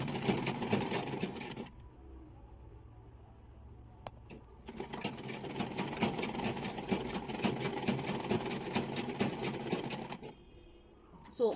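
A sewing machine runs steadily while stitching an invisible zipper, with a long burst, a brief pause, then a second long run that ends with a short backstitch.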